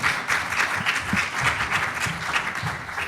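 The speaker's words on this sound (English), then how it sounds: "Let's give them a round of applause." An audience at a smart-cities conference applauds panel speakers as they come on stage, a steady wash of many hands clapping throughout with a few louder nearby claps.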